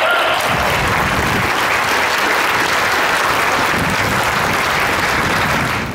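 An audience applauding for artists at a community arts event in Peoria: steady, dense clapping from a large crowd, loud and continuous for about six seconds before starting to fade.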